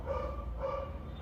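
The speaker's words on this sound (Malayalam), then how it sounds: "പട്ടീൻ്റെ ഒച്ച ഒന്ന് പരിഗണിക്കുക." A dog at home barks twice, faint and at a distance, against a quiet indoor background.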